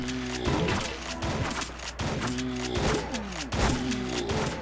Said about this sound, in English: the sawed-off shotgun is really helping